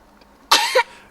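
A child coughs from a partial airway obstruction: a single sharp, close cough with a brief second push at its end.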